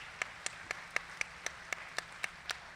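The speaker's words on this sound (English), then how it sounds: "Can we give them a round of applause?" Evenly spaced, sharp claps at a commencement ceremony, about four per second in a steady beat, faint and thin rather than a full crowd roar.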